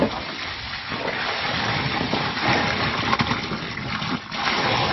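Water splashes and gushes steadily onto the bare earthen floor of a catfish pond, a continuous broadband wash at close range with no talk over it.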